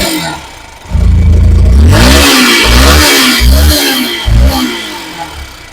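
A Yamaha SZR motorcycle with an electrical current problem runs close by and is revved repeatedly, its engine note climbing and falling in four or five rhythmic surges over a steady idle.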